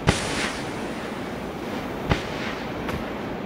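A grenade goes off in the PUBG Battlegrounds shooter game as a sharp blast followed by rumbling noise, with further thuds a couple of seconds later over steady background wash.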